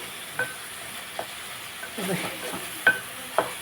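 Onions and tomato pieces fry in a pan with a soft, low sizzle, punctuated by a few sharp clicks and scrapes of a spoon stirring against the metal.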